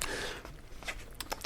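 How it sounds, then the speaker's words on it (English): Close, crunchy chewing of a spicy chicken sandwich, a few soft bites and crunches spread over a moment, quiet and near with no talk. "Everybody chew right now."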